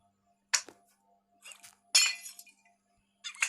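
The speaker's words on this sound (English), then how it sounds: "Breaking glass, my favorite sound." Glass panes shatter in Minecraft, four short sharp crashes spaced over a few seconds against near silence, each a bright brittle burst that dies away quickly.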